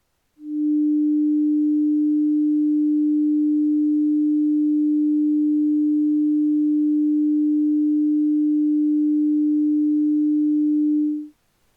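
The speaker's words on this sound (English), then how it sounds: "Leave your hand exactly there and hum a higher note." A single sustained higher hummed note holds perfectly steady for about eleven seconds, loud and unbroken with no talking.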